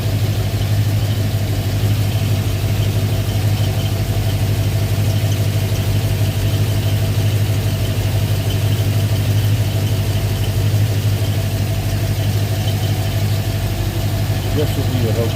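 A 1965 Ford Mustang V8 with automatic transmission idles steadily under an open hood, a continuous loud low rumble with constant broadband noise and no pauses.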